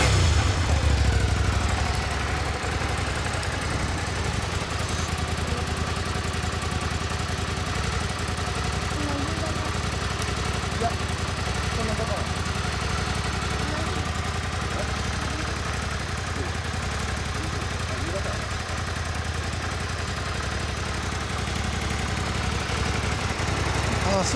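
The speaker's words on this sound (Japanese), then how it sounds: "ほんならエンジン音聞かせてもらうわね。" Suzuki Gladius 400 ABS motorcycle, a V-twin (VK58A), idling steadily for a long stretch as a constant close engine drone, with a brief burst of voices at the start.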